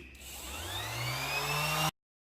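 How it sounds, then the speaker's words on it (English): A power sander with 80-grit paper runs on a salvaged farmhouse coffee table, a steady, rising whirring whine that builds in pitch for about two seconds, then cuts off abruptly into silence. "So I'm going to sand with the 80, see if I started a little bit."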